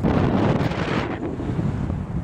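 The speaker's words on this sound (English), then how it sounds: "Holy smokes, is it windy up here today?" Strong wind buffeting a microphone on an exposed hilltop, a loud roaring rush that surges and eases slightly, with no voices.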